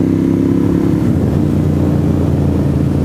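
Harley-Davidson motorcycle passing on a mountain road, a loud, close, deep engine rumble that holds steady and then shifts lower as it goes by.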